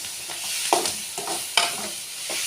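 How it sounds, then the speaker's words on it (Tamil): Tomatoes sautéing in oil in a pan, a close, loud sizzle with scraping stirs and a couple of sharper bursts as the spoon moves, no voices. "இப்போ வணக்கிட்டு இருக்கேன் தக்காளி வனம் மட்டும் நல்லா எண்ணெயில்"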